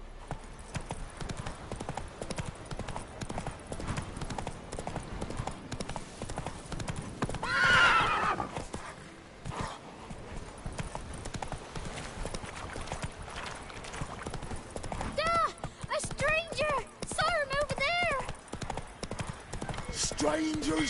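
Rapid drumming hoofbeats of a galloping horse in The Witcher 3, steady and close throughout, with a loud whinny partway through and voices speaking over the ride.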